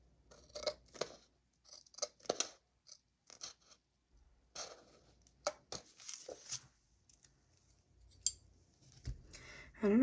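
Scissors snip through stickers for a monthly planner page, a series of short, crisp cuts in irregular clusters, close and quiet with pauses between, plus faint paper handling.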